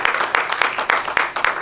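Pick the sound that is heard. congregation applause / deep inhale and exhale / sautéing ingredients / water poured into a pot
congregation applause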